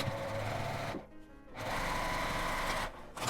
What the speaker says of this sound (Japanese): 端から5ミリぐらいのところにミシンをかけます